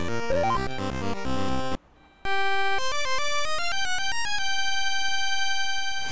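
A Pegasus flute item in the NES game Rygar sounds as a chiptune jingle: a busy burst of notes, a short silent gap, then a bright rising sequence of sustained square-wave tones stepping upward, loud and alone with no talk.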